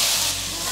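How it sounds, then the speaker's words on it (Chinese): Carrot, daikon and potato are quickly stir-fried in a wok, giving a brief, dense, hissing sizzle. "快速翻炒"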